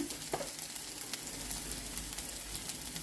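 Ginger garlic paste sizzling in hot oil in a pan while cooking a gongura meal maker curry, a steady, close hiss of frying that carries through the whole moment.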